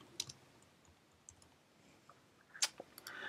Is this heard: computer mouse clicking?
yes